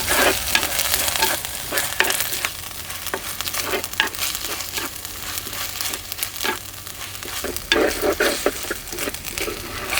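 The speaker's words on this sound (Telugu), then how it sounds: "ఇప్పుడు 2 చెంచాలు అల్లం వెల్లుల్లి పేస్ట్ వేసుకుని పచ్చివాసన పోయే వరకు బాగా వేగనిద్దాం." Ginger garlic paste sizzles and fries steadily in a pan with onions and green chillies, the frying broken up by repeated stirring scrapes and clatters, close and fairly loud with no talking, for a Godavari-style prawn and raw mango curry.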